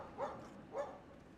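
A dog near a mountain shrine marina in Japan gives two moderate barks about half a second apart, heard alone against quiet background hum.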